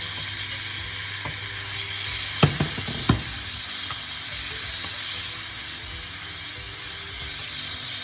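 Thinly sliced beef frying in a pan, a steady close sizzle running throughout with a couple of brief clanks of utensils early on.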